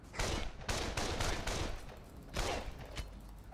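Rapid bursts of gunfire in the video game Project Winter, a dense fusillade of sharp, loud shots in quick succession with a heavier blast near the end, no talk over it.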